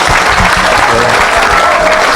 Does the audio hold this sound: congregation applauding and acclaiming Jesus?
yes